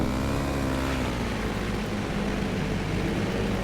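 Speedway motorcycle engine in the FIM Speedway Grand Prix 15 racing game, on the Slovenian Grand Prix track, a steady loud drone that holds close and constant without a break.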